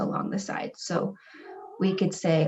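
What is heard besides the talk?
cat meowing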